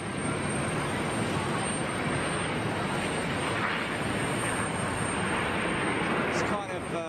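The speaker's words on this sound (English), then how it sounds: "It's kind of the standard noises that you're going to get at an airport." Continuous broadband roar of jet aircraft engines at an airport, steady and loud throughout with a faint high whine on top, easing slightly near the end.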